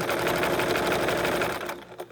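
A sewing machine stitches a rope bowl wrapped in sari silk ribbon, running in a steady, fast, loud mechanical whir that stops abruptly near the end.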